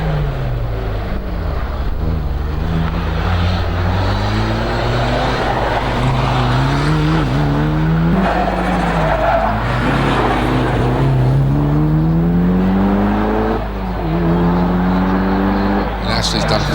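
A Mitsubishi Evo racing car climbs a hillclimb course, its engine droning loud and steady throughout with rising and falling revs as it shifts through gears, while a commentator talks over it.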